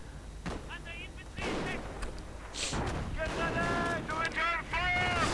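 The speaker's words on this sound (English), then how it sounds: "Pak-38 blasting away at a lieutenant" A Pak-38 anti-tank gun fires in the strategy game Company of Heroes, with booming shots and thuds among battle effects, all under steady talk from a commentator.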